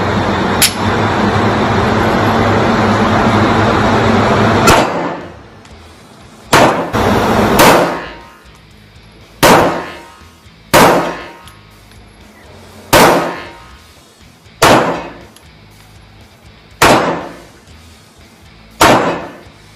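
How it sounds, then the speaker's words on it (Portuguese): Taurus G3c pistol firing at a shooting range: a loud roaring blast, then a string of sharp, evenly spaced single shots, each a hard crack with a short decaying echo. "Tiros."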